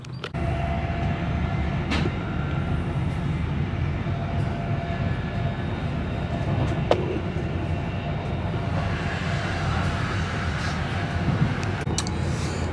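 Steady rumbling drone from inside a moving East Midlands passenger train, with occasional clicks and knocks from the carriage over a continuous low roar.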